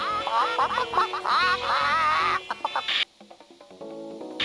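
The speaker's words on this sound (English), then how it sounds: "Carol, the last of the chickens is now crossing the road." Cartoon chickens cluck and squawk in the 1997 PC game Math Grade 2: Foggy McHammer's Treehouse, a busy burst of loud clucks that drops to scattered short clicks and notes.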